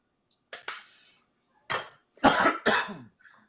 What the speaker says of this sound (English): That's a powerful cough.